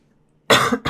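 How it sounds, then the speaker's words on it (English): A single sharp cough bursts out of near silence, followed quickly by a second shorter cough, close and loud. "Excuse me. I've had an awful cough"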